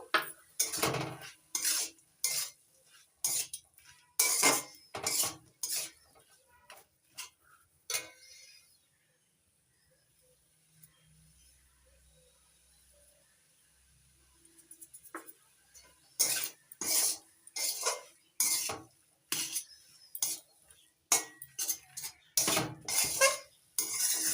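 A utensil stirs and scrapes spinach and prawns dusted with Gobindobhog rice flour in a pan, giving clinks and scrapes in bursts that stop for a quiet stretch midway and then resume.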